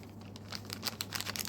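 A bag of baking powder crinkles as its whole contents are poured into minced meat for kofta, a soft run of crackly rustles close by over a low steady hum.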